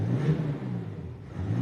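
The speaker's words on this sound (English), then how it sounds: "There isn't many diesel engines out there that can produce that sound." A BMW X7 M50d diesel engine idles just after push-button start, a steady low rumble close by with a slight swell near the end and no talking.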